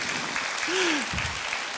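A church congregation claps in a brief, even burst of applause, with a short spoken tone rising and falling in the middle.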